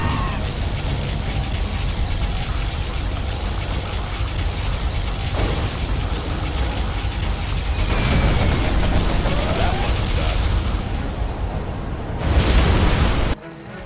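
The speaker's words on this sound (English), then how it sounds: "Particle cannon activated." A particle cannon blast in the real-time strategy game Command & Conquer Generals Zero Hour, a loud sustained roaring barrage with booming impacts that swells toward the end and cuts off sharply.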